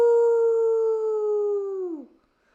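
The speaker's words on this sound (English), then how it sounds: "A coyote howled in the distance." A lone coyote howls in the distance, one long sustained wavering note that holds steady and then slides downward as it fades out, with no other sound around it.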